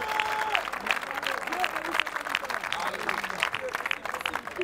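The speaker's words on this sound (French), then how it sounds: "On acclame le Seigneur Jésus-Christ." A church congregation applauds with dense, continuous clapping while voices cheer and shout acclamations over it, lively and close throughout.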